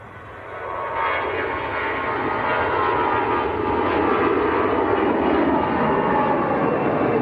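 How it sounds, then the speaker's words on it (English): An EasyJet airliner on its takeoff roll at Manchester Airport, bound for Dalaman, Turkey. Its jet roar swells within the first second, then holds as a loud, broad, steady rumble heard from a distance. "EasyJet on the roll."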